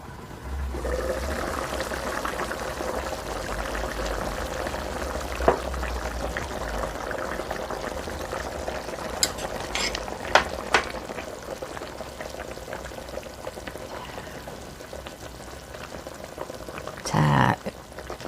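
A pot of mushroom and burdock soup boils on the stove with a soft, constant bubbling hiss and a few sharper clinks and splashes near the end; no one speaks.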